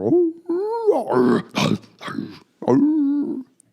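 A howling cry rises and falls in several short voiced bursts with brief gaps between them, close and fairly loud, and sounds like a person imitating an animal's howl.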